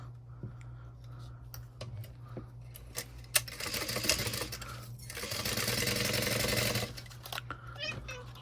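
A sewing machine stitches a messenger bag seam at a quarter-inch allowance with back stitching, running in bursts with a steady low hum, and a continuous louder whirring stretch midway.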